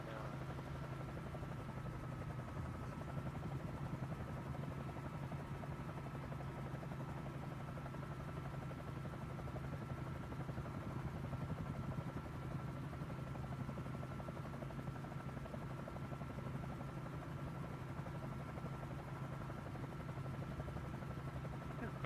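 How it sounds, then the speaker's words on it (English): A small helicopter flies on a safari alongside a fixed-wing plane, giving a steady, low droning rotor and engine hum heard from inside the cabin, unchanging and fairly quiet throughout. "my little chopper's keeping up with the fixed wing"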